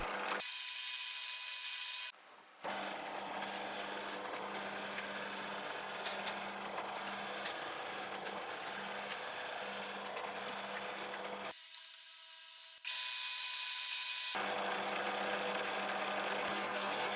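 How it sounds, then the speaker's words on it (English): A power drill bores and countersinks holes in steel for patio chair frames, a steady loud whirring grind that runs on with two brief pauses and no talk. "96 holes to drill and countersink, and it made a quick and easy job of it."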